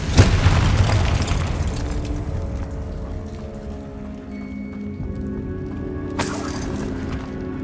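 Confringo fire spells explode in the Hogwarts Legacy video game. A sharp, loud burst opens and is followed by a crackling, rain-like rumble, then a second bright blast near the end.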